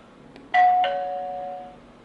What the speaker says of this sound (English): Let's see if it'll call the...